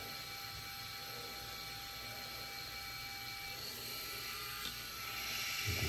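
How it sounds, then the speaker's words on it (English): A $30 electric shaver with its pop-up trimmer runs close to the microphone while trimming sideburns, a steady high-pitched motor whine and buzz with slight shifts in tone as it moves against the hair. "It has this pop-up trimmer. And you can get in and trim the sideburns"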